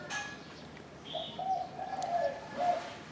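Soft, low dove cooing in a few phrases, with faint bird chirps in the background of an outdoor scene.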